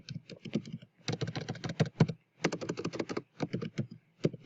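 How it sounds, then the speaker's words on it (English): Brisk typing on a computer keyboard while entering income statement figures, close and fairly soft, in several quick bursts of clicking keys separated by short pauses. "We'll type that one down here."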